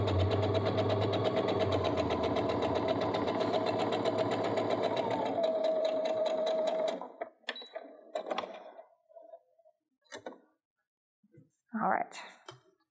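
A sewing machine runs steadily, stitching a quarter-inch seam on a triangle quilt block, for about seven seconds before stopping; afterward faint handling sounds and brief talk follow.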